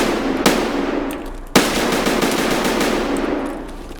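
An ADAR 2-15 assault rifle fires in the video game Escape From Tarkov: two loud, sharp shots or short bursts about a second apart, each followed by a long ringing tail, with no voices.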